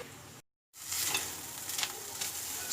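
Beaten eggs with aloe vera and onion stirred in a pan over medium flame for egg podimas, a steady close sizzle with scraping strokes after a brief silent gap, no talking.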